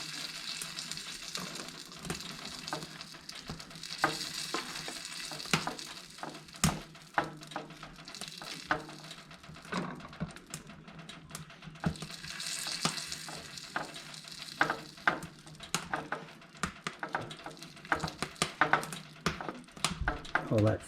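Venison and hasselback potatoes sizzle steadily in a pan on an antique wood cookstove while being basted, with frequent sharp spatters and occasional clinks of a utensil against the pan.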